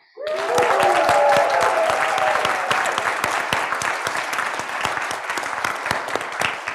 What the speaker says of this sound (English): how about a whole nother round of applause for Debbie?